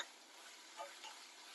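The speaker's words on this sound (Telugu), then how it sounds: "అల్లం అంతా నూనెలో దాని పచ్చి వాసన పోయేంత వరకు" Chopped ginger fries in hot oil in a pan for mango rice, giving a steady soft sizzle with a faint stir partway through.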